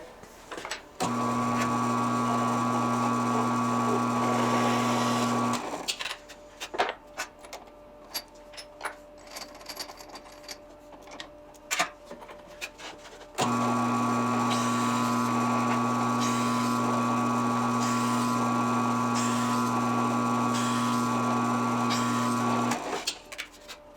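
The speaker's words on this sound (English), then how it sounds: "I went ahead and drilled out my my 1/8 inch pin that I used as an index pin to cut my fret slots" A drill press boring out a 1/8 inch steel index pin to 1/4 inch, used for cutting fret slots on a mahogany Fender-style bolt-on neck; a loud, steady motor whine runs for several seconds, stops, then returns for a second long stretch.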